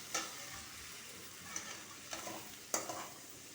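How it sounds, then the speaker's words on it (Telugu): Spices frying and being stirred in a pan for a Telugu curry, a soft steady sizzle with a few sharp stirring clatters, moderately quiet and without talk. "ఇప్పుడు బాగా వేగనిస్తాను"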